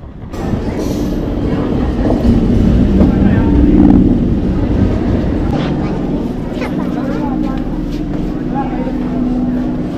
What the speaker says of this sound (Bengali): মাঝেরহাট স্টেশন থেকে লোকাল ট্রেন ধরে যাব শিয়ালদা স্টেশন